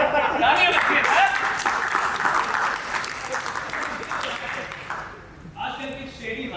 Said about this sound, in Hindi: तालियां बच्चे सर।